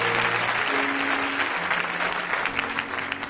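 A church congregation applauding, dense clapping from a crowd filling the room, loud and sustained for a few seconds alone with some musical tones underneath.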